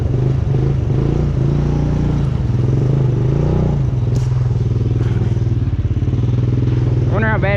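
Honda Recon ATV in a creek, its engine droning loud and steady close by with wheels spinning in water; the pitch dips and surges, and a rising rev sweep comes near the end.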